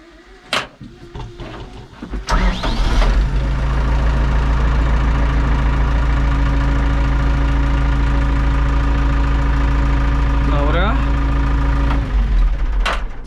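An Ursus C382 tractor engine, just given an oil change, cranks and starts, then settles into a loud, steady diesel idle that runs on without a break, with brief handling noises at the start.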